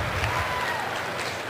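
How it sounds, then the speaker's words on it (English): Crowd of World of Warcraft fans at BlizzCon in Orange County applauding and cheering, a steady dense roar of many hands that fills the hall at a constant level. "Give yourselves a round of applause."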